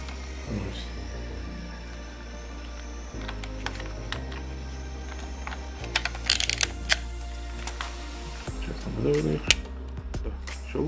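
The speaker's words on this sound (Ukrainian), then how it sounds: "В принципі, все працює, все щелкає, потертий стан." A vintage film photo camera's mechanism clicks and ratchets repeatedly up close, sharp mechanical snaps and winding clatter over a low hum, with someone speaking between the clicks.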